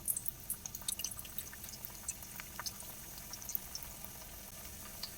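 Wheat-flour moong dal matari frying in oil gives a faint, continuous bubbling with small popping ticks scattered throughout, quiet and steady with no voices.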